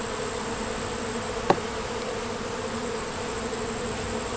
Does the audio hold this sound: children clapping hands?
no